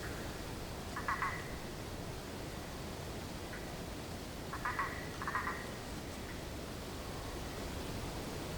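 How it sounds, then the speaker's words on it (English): Frogs call at night around a lake in Brazil: a few distant croaking bursts trade back and forth, faint against a steady wash of broadband night noise. "they give us real cool image of just the frogs calling back and forward"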